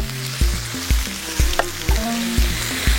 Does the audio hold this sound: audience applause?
no